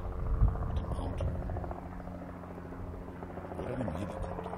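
A helicopter flies near a golf course on the Jakobsberg, its rotor producing a steady low throbbing drone with a slight rise and fall in pitch, while a voice speaks briefly.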